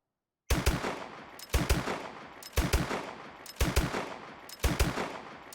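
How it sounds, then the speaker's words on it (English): Bursts of automatic gunfire from an NA-45 in a video game, fired at a steady 400 rounds per minute, with five sharp, loud shots evenly spaced about a second apart, each trailing off before the next. "I'll play a bit of sound so that you know what 400 RPM sounds like"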